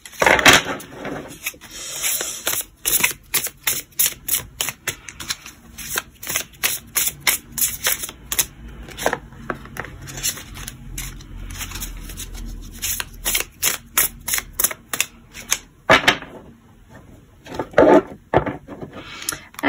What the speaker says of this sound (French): On va commencer par une petite coupe avec le tarot.